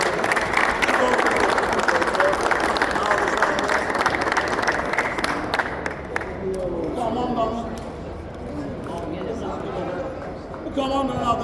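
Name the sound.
audience applause at football final awards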